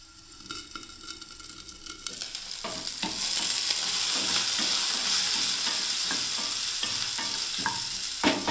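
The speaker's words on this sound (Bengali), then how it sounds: "করলাটা যখন ভাজা হচ্ছে বন্ধুরা" Bitter gourd (karela) frying in a pan, sizzling steadily throughout with repeated scraping stirs of a spatula, the sizzle swelling louder after the first few seconds and staying close and continuous.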